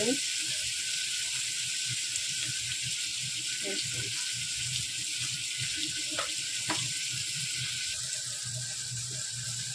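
Tomatoes sauté in a pan with a quiet, steady sizzling hiss and occasional soft stirring scrapes.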